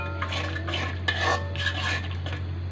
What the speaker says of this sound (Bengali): মশলাটা ভালো করে কষুক।